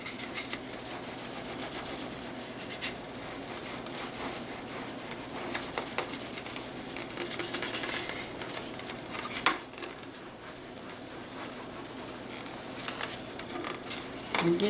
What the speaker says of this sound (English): we're just going to rub black paint on it.